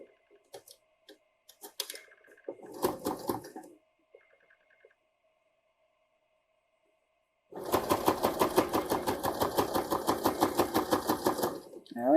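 A sewing machine stitches an invisible zipper into a vintage jumper, a close, steady rhythmic run of needle clatter starting partway through after quiet handling clicks and a few faint sounds.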